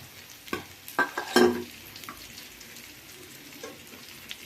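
Whole amla gooseberries hit hot oil in a pan and are stirred, giving a few loud sizzling bursts and scraping clatters early on before settling into a quieter, steady fry.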